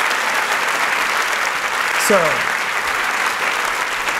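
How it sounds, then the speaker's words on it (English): Loud, sustained applause and cheering from a festival audience after a show, filling the room continuously, with a voice briefly speaking partway through. "deserve a round of applause right now"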